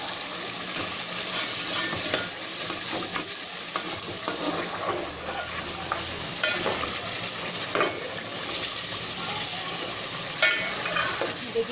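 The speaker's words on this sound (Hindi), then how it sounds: "देखिए अचार गोश्त भून रहा है।" Achar gosht, meat cooking in masala and oil, fries with a steady close sizzle broken by scraping stirs and occasional spattering crackles, with no talk.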